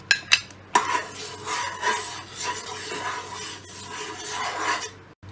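Ground almonds stirred into sugar syrup for almond halwa, a close, rhythmic scraping and rubbing of a spoon against a pan that comes in repeated strokes after a few sharp knocks, with no talking.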